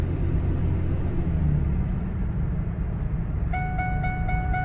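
Steady low rumble of a 2002 Ford F150 pickup truck being driven, a continuous engine and road drone heard from inside, with a few short tonal beeps near the end.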